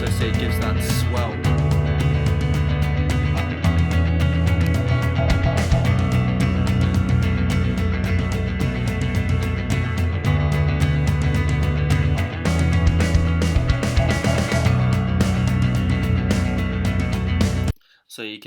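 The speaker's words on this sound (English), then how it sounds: "It's just the same guitar track doubled up, kind of echoing in the background." A doubled electric guitar track from a live jam blooms into an echoing, ethereal swell, sustained and fairly loud beneath a full band mix for about seventeen seconds, then cutting off abruptly.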